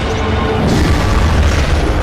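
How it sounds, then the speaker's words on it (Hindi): A loud, sustained explosion from an attack in a monster battle between King Ghidorah and Shimo, a dense roaring boom that fills the whole moment at full loudness. "भाई यहाँ तो धमाका हुआ है काफ़ी तेज"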